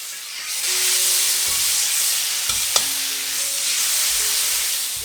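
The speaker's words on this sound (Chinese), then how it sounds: "炒一炒" Chili bean paste, fennel seed, bay leaves, cinnamon bark and star anise stir-fried in a wok for a vegetarian mala hotpot base, giving a loud, steady sizzle with a few scraping stirs and one sharp clink.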